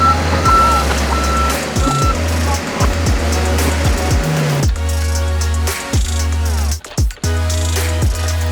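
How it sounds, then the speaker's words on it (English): A truck backs into position to unload stone, its reversing alarm beeping steadily at close range over a loud, rumbling engine. "So we're gonna back the truck in here"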